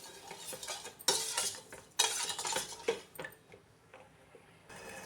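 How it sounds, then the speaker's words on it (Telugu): A spoon scrapes and clinks around a pan of sugar syrup cooking for badusha, coming in a few irregular bursts of stirring with short quiet gaps between them. "ఇలా చక్కెర అడుగంటకుండా మధ్య మధ్యలో కలుపుకుంటూ ఉండాలి పాకాన్ని."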